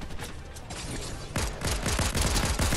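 Rapid SMG gunfire in a shooter video game: after a hiss of ambient noise, tight bursts of rapid shots rattle out, loud and close, running to the end.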